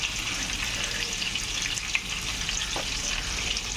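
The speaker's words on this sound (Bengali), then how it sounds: "ডিম ভাজছি" Eggs fry in a pan with a steady, dense sizzle and crackle, close and even throughout, with one brief scrape partway through.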